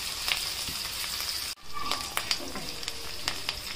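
Green chillies and curry leaves fry in hot oil for a moong dal tomato curry, giving a steady close sizzle with crackling pops and a brief break midway before the frying resumes.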